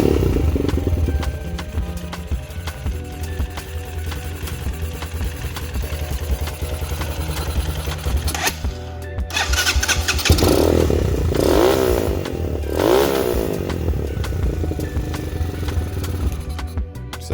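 Lifan KP Mini 150 engine swapped into a small bike and fitted with a muffler idles with a steady putter close by, then revs in a few rising bursts before settling back, with no voices.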